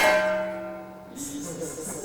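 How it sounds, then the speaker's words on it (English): A death bell tolls with a fading, resonant hum, followed by a fresh metallic strike that rings on with shimmering overtones. "the sound of Robin's death bell"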